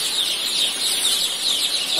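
Young joper chickens in a brooding pen give a continuous chorus of high peeping and soft clucking, close and steady throughout.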